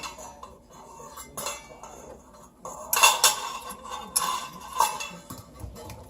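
A utensil clinks and scrapes against a bowl while meatloaf ingredients with ketchup are mixed, a run of irregular metallic taps and clatters, close and moderately loud, with a busier cluster in the middle.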